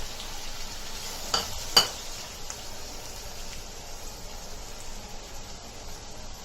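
Onion and a cinnamon piece frying with salt in a pan for mutton bheja bhurji, a soft continuous sizzle with a couple of brief clinks early on.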